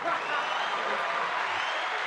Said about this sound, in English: Get the applause from the crowd.